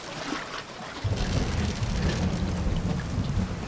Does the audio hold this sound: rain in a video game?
yes